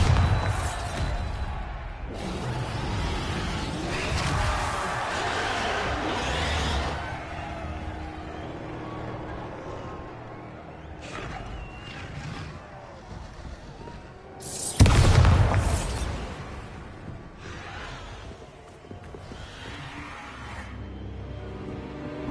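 Blasting-spell explosions in Hogwarts Legacy, several dull booms and rumbling bursts over a long stretch, with a louder, sharper blast about two-thirds of the way through amid game ambience and faint speech.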